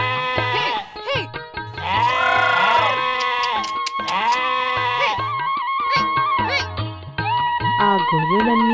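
Cartoon sheep bleating repeatedly in an animated children's story, loud, layered wavering calls overlapping one another and set against a steady musical background throughout.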